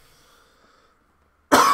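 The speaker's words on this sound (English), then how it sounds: "One second, got a cough." A single sharp cough comes suddenly and loud at the very end, after near silence with only faint background tones.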